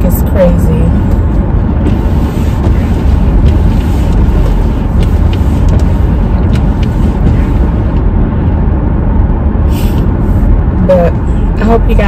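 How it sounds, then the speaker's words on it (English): Road traffic heard from inside a moving car on the drive home, a steady broadband rumble of engine and tyre noise holding loud and continuous throughout, with a few brief brighter passing sounds. "Traffic is crazy."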